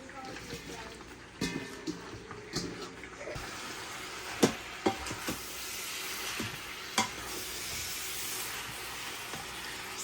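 Collard greens being stirred in about half a cup of hot bacon grease in a pot on the stove, giving a steady sizzle and hiss with a few sharp utensil clinks, while a voice talks over it.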